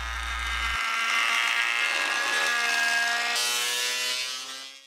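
A small jointer shaves thin passes off wood stock, giving a loud, steady rasping whine that runs nearly five seconds before trailing off, with no voices.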